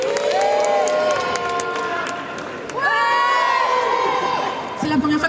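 Crowd at a Japanese pop culture show contest in Mons cheering and applauding a first-time stage performer, loud sustained clapping mixed with shouts and whoops, with voices rising over it.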